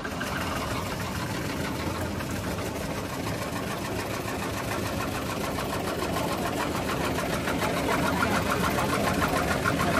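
A beach cleaning robot's engine runs steadily on sand in Bali, a continuous rough mechanical hum and clatter that holds close and fairly loud throughout.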